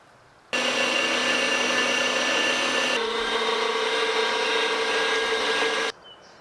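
An electric meat grinder works through large chunks of meat, giving a loud, steady motor whine that starts abruptly, shifts pitch partway as it loads and then cuts off, with no voices.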